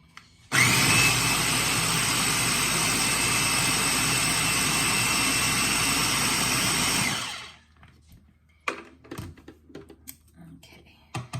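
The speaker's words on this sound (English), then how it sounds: "I won't talk this time when it's blending just because it makes so much noise" A blender roars loudly and steadily for about seven seconds while pureeing fresh cranberries, then cuts off, leaving faint clicks and handling noises.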